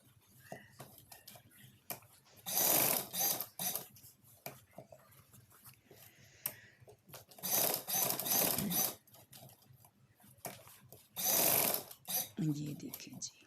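An electric sewing machine stitches a boutique-style kameez in three loud, rapid whirring bursts, with quieter handling noises and low talk in the gaps between runs.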